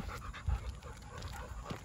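A big Rottweiler pants steadily at close range, breathing in a quick rhythmic cycle on a walk, with a brief louder huff midway and no talking.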